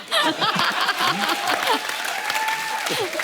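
A studio audience on a comedy show claps loudly and steadily, with chuckles and laughter mixed into the applause and voices talking over it.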